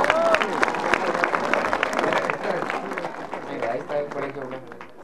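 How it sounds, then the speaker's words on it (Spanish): An audience at a decentralized government council of ministers in Amazonas, Peru, gives loud, sustained applause with dense clapping that slowly fades, while voices talk over it. "Fuertes palmas, por favor."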